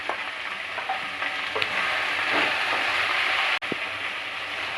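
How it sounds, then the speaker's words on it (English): Okra masala sautés in a pan with a steady close sizzle, broken by occasional scrapes and clinks of stirring. "So just saute for 2-3 minutes."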